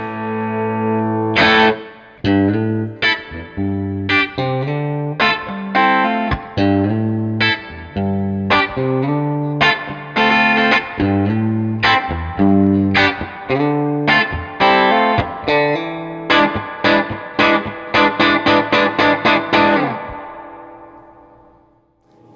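An electric guitar plays through a Fender Pro Jr. IV or Blues Jr. IV amp fitted with a Celestion A-type speaker, adding delay to a clean, 60s-style tone. Picked single notes and chords ring out in a steady melodic phrase that speeds up near the end.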